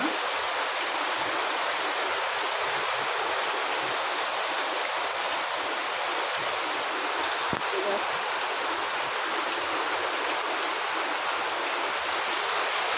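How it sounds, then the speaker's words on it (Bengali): A downpour keeps falling at home, a constant loud wash of rain noise with no breaks, close by and filling the whole stretch, with only a faint knock partway through. "আজকে মনে হচ্ছে বৃষ্টি আর থামবে না, এরকমই যাবে সারাদিন"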